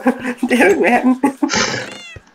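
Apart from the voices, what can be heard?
cat meowing in a video game (Minecraft)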